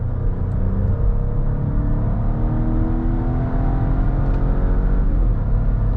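A 2023 Volvo S90 B6 Plus sedan pulls at full throttle, its engine droning and rising steadily through long gears with a constant rumble and whir from inside the cabin.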